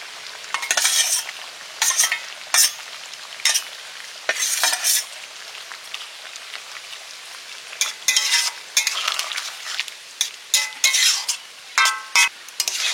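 Small pond fish, mourola and puti, go into a pot of pui shak chorchori and are stirred in. Repeated bursts of sharp sizzling and spatula scraping come close and fairly loud, in an uneven rhythm.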